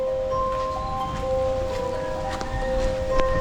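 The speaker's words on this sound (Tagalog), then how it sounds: "Grabe, lakas ng hangin ng bagyo mga lods." Strong typhoon wind during a storm: continuous loud rushing roar with gusty buffeting on the microphone and steady tonal whistles underneath, no talk.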